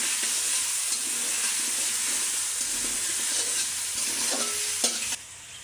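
Potatoes coated in turmeric fry in a pan with a steady, close sizzle and occasional stirring scrapes, the hiss dropping away abruptly near the end.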